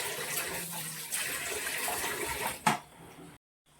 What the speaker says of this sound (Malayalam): നമ്മുടെ ചട്ടി ചൂടായിട്ടുണ്ട്, നമുക്ക് എണ്ണ ഒഴിക്കാം.